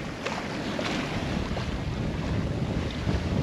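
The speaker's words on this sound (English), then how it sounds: "Beautiful day sailing. We've got currently, let's see, about 13 to 14 knots coming from that way." A sailboat on a broad reach in 13 to 14 knots of wind on an ocean passage toward American Samoa, with steady, dense rushing wind and water noise that buffets the microphone throughout, and no voices.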